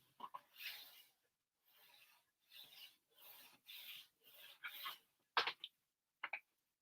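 A glued paper hinge in a craft album is burnished in quiet, close rubbing strokes, each a short scratchy pass with gaps between, ending in a few sharper rubs.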